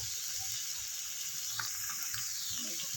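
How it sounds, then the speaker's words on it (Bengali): Ground cumin and coriander sizzle in hot oil, a steady close crackling hiss with soft stirring scrapes underneath, continuous and unbroken with no voices. "এবার আমি দিয়ে দিচ্ছি জিরে গুঁড়ো আর দিয়ে দিচ্ছি ধনে গুঁড়ো"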